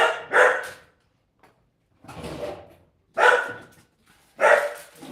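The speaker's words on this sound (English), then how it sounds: "2 wiener dogs, 2 Dachshunds." Two Dachshunds barking in short, loud bursts, four separate barks spaced roughly a second apart with quiet gaps between, no talking.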